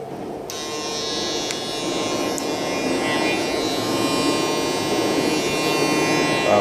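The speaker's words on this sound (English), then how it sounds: "This clipper got so much power" A steady electric buzz of a Babyliss Pro FX880 hair clipper running close by, constant and unbroken, with a broad rumbling noise of a passing train underneath.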